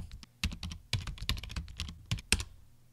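Names are typed on a computer keyboard, a close, moderately loud run of irregular key clicks and taps in uneven bursts, with no talking.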